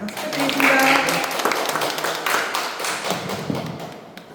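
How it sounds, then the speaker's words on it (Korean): An audience at an arts and technology forum applauds in a dense, fairly loud stretch of claps that gradually thins out, with some voices mixed in. "박수 부탁드립니다."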